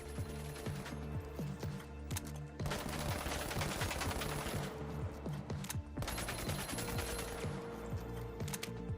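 Rapid automatic rifle fire from the FCAR and AKM in THE FINALS, shot at a house wall in the practice range: dense, loud sustained bursts with brief pauses between strings of shots, no talking.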